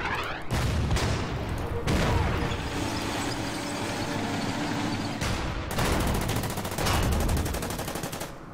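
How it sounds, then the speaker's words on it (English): Bombing run in the Order of Battle war game, a loud sustained rumble of blasts and rattling fire with sharp bursts breaking in several times over the dense roar. "let's bomb him."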